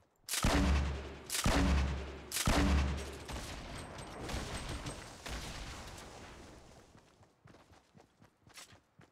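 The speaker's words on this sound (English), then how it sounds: "Grenade launcher!" A grenade launcher fires in Fortnite Battle Royale, giving three heavy booming blasts about a second apart and then a rumbling tail of further explosions that fades out, with light scattered clatter at the end.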